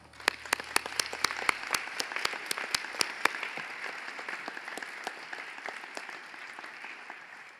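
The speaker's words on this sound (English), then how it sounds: "Let's give them a round of applause" An audience at a dental therapy white coat ceremony gives new students a round of applause. Many people clap steadily, with some sharp, distinct claps standing out from the rest, and no one speaks.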